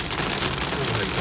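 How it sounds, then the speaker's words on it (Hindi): A heavy downpour of rain with a dense, steady roar of drops on surfaces, loud and continuous throughout, with no pauses or talk. "ये देखो तो सामने कितना तेज बारिश हो रहा है"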